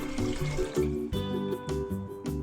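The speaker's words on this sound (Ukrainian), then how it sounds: "Для цього беру воду кімнатної температури" Room-temperature water pours steadily into a container while a pickling brine is made, a close, continuous splashing and gurgling stream with shifting tone as the vessel fills.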